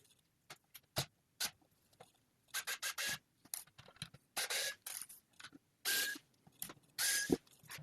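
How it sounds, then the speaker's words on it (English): A small screwdriver turns the little screws on the bottom of an ASUS DGX Spark mini computer, giving close, crisp bursts of scraping and ratcheting in short irregular spurts with pauses between them, and nobody speaks. "Now, on the bottom I have 4 little screws, which I'll try to unscrew."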